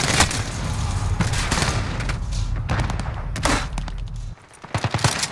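Rapid bursts of video game gunfire, dense overlapping shots firing almost continuously, loud and close, breaking into a few sharper separate cracks near the end.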